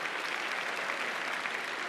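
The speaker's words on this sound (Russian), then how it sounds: "Ваши аплодисменты." Sustained crowd clapping fills the hall during the New Wave 2012 contest opening, an even, unbroken roar of many hands that neither builds nor fades.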